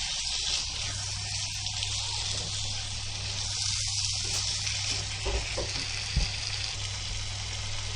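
Chopped tomatoes fry and sizzle in a pan for a Konkani black pea salan, a steady close hiss with occasional stirring clinks and scrapes near the end.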